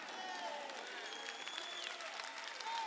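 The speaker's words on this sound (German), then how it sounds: "Schenke Gott einen sehr lauten Applaus." A church congregation claps and cheers in a large room, fairly faint and distant, with raised voices ringing out over the applause.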